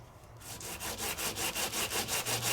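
Light sanding on an embossed card with alcohol ink, about a dozen quick, even back-and-forth scratchy strokes close by in a steady rhythm.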